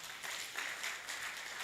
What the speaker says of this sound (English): If you agree with me, give him a round of applause again